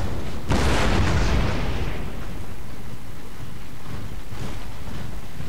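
Napoleon: Total War battle with a World War I mod, Russia against France, as 12-pounder foot artillery and rifle battalions fire: a loud booming blast rolls away into a long rumbling echo, followed by a fainter second report.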